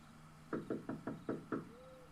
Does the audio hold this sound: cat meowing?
no